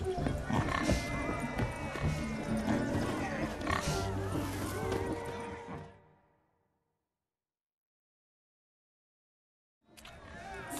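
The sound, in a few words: pigs grunting in a pen, from The Witcher 3 video game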